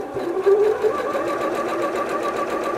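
A Bernette B38 sewing machine runs at medium speed, its needle hammering in a steady, even rhythm with a constant motor whine, close and clear with no voices over it.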